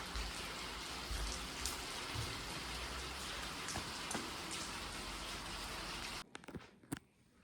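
Rain falls as a steady, dense hiss that continues for several seconds before cutting off into near quiet with a few faint knocks.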